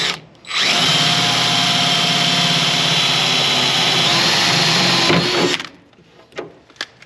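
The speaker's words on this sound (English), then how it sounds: "we're going to use an 1/8 inch drill bit to make a small pilot hole" A power drill with a 1/8 inch bit whines loudly and steadily for about five seconds drilling a pilot hole in sheet metal, then stops, followed by a few faint clicks and handling noises.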